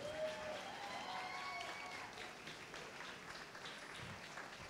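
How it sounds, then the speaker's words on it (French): Moderate, fairly distant clapping from the audience at a cosplay contest, with faint whistles or cheers in the background of a hall, continuing evenly. "d'applaudir encore nos participants"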